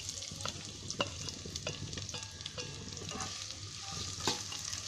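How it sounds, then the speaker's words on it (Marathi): Two large chopped onions frying in hot oil in a pan on high heat for a Konkani vegetable pulao, a close steady sizzle with scraping stirs and spoon clicks throughout. "आता गॅस फास्ट करून आहे ना, मी कांदा चांगला लाल करून घेणार आहे फ्राय"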